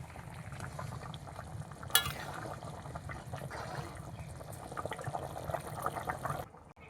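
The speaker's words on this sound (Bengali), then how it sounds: "কত সুন্দর টকবক করে ফুটতেছে কড়াইটি।" Rui fish curry with taro bubbling and simmering in a pan, a steady close boil with soft popping and a brief stir or clatter near the second mark, alone without talk.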